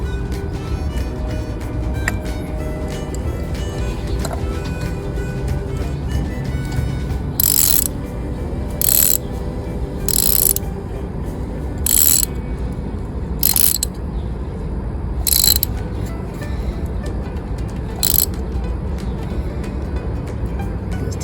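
A socket ratchet clicks in repeated bursts while tightening a spark plug on a 2016 Ford Fusion, with about eight short, loud ratcheting strokes spaced by pauses over a steady mechanical background, and no talking.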